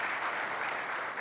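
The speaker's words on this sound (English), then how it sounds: "Clap it up." Audience applause at a sneaker-industry panel event, a brief, steady burst of many hands clapping together, evenly dense throughout.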